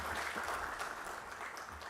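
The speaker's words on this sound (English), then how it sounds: "A bigger hand clap." A workshop audience applauds at a supplier development conference, a faint, distant wash of steady clapping lasting under two seconds.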